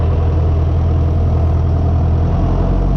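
A David Brown 996 tractor engine running steadily while driving, a loud, close, continuous low diesel drone with a constant rumble and no pauses.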